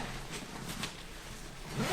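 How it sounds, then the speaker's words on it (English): A backpack zipper being pulled, a rough scraping rasp at moderate loudness with a louder final tug near the end, heard on its own without speech. "wrench the zipper around"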